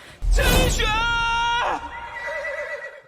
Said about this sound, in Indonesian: Seekor kuda yang menuju ke arah kumpulan burung seketika langsung diserang